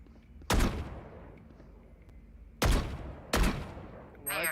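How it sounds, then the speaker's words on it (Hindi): A gun fires in a video game, three sharp, loud bursts spaced apart over a low background hum, followed by a short rising electronic sound. "ये गन चला के देखनी है, अच्छी लगती है।"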